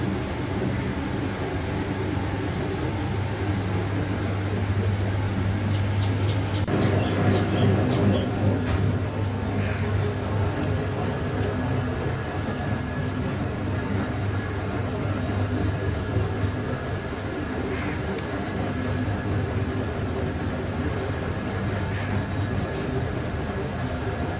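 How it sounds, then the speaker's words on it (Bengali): A dough mixing machine kneads sandwich bread dough with a steady, loud mechanical drone and low rumble that runs continuously throughout, with a faint higher whine above it. "এই ডো মিক্সিং মেশিনে আমাদের স্যান্ডউইচ ব্রেডের ডোটি ভালোভাবে মিক্স হচ্ছে।"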